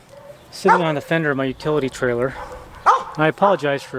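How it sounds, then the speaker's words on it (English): Dogs bark somewhere in a neighborhood, mostly buried beneath someone talking close to the microphone outdoors beside a utility trailer while he services truck camper batteries. "my dogs and the neighborhood dogs all barking and everything"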